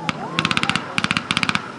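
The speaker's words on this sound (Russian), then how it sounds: "еще один" Rapid bursts of gunfire crack out at a military battle reenactment at the Siberian Fire festival in Bolshoy Oyosh near Novosibirsk, two clustered volleys of sharp shots, loud and close.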